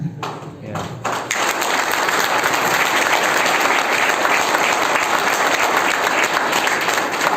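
Audience applause at a live motivational talk, starting after a brief quiet moment and then swelling into steady, loud, dense clapping that holds evenly to the end.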